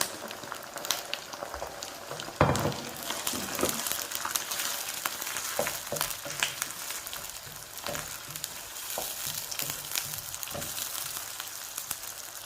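Tomatoes going into frying onions for lamb karahi, a steady close sizzle with scattered crackles and spatters, one sharp pop early on, stirring clatter at intervals.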